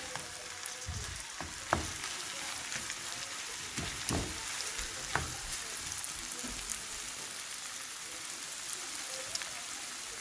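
Ground turkey frying in a home pan for a torta, a steady close sizzle with soft scattered crackles and a few stirring scrapes throughout.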